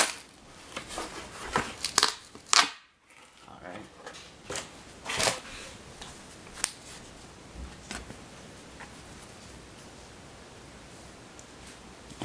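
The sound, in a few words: tearing open action figure packaging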